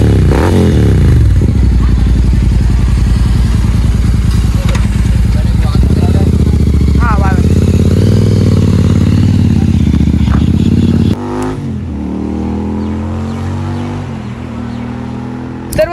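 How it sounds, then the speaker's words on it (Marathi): A motorcycle engine runs loud and close with a steady low throb, rising in a few revs, then drops to a quieter idle partway through. "एकदा साऊंड चेक करा भाऊ गाडीचा."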